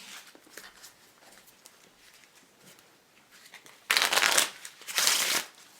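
A Red Bad Robot Mystery Box playing card deck is handled nearby, with faint riffling early on, then two loud, close bursts of cards spreading and shuffling, each about a second long.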